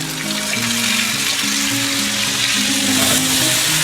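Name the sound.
frying potato and eggplant curry with spice mix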